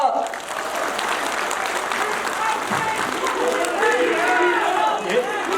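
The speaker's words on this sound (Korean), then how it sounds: "뜨거운 박수 부탁드리겠습니다." A crowd claps steadily and loudly throughout at a party members' meeting in an auditorium, a sustained wash of applause with a few faint voices mixed in.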